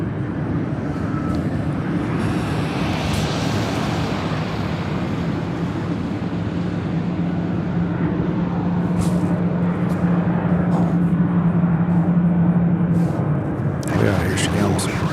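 A Boeing 767 approaching Louisville International Airport, a broad distant jet engine roar building steadily under people talking nearby, with wind and occasional rustle near the end.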